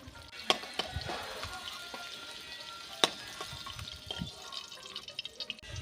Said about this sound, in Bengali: এখানে ডিমগুলো ভেজে নিচ্ছি সব।